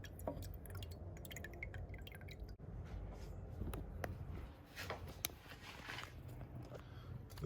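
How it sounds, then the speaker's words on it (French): Diesel fuel dripping from the fuel filter of a V6 HDI 2.7 litre 207 hp Citroën C6 or C5 during a filter change: scattered small liquid drips and wet squishes over a steady low rumbling background, close and quiet. "Là on égoutte."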